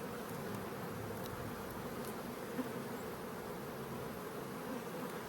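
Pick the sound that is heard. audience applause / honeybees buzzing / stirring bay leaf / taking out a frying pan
honeybees buzzing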